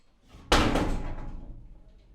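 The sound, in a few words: door being forced open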